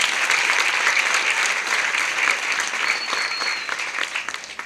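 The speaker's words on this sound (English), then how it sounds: "Clap your Member of Parliament." Sustained applause from a school audience honouring their Member of Parliament, dense steady clapping throughout at a fairly loud level, with no speech over it.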